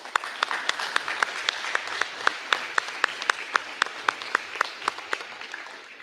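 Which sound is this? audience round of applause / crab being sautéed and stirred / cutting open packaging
audience round of applause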